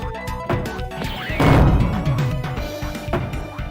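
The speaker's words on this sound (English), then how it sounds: "I love the anime sound effect when you clear a line." An anime-style line-clear effect from a retro video game plays as a loud, bright synthesized burst. A crashing, whooshing swell peaks mid-clip, set over ongoing game music with tonal blips and chimes.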